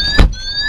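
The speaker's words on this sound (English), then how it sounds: "So what you heard there is actually like a fighter jet warning." A 2022 Peugeot 3008 Allure facelift sounds its key-not-present warning inside the cabin: a short, bright electronic tone chirps twice with a brief thud between, close and clear.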